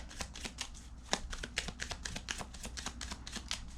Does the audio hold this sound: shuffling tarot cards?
yes